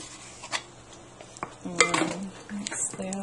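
Vegetable lasagna filling is stirred in a bowl, with a few soft scrapes and clinks of the utensil against the bowl, close but faint over a short stretch.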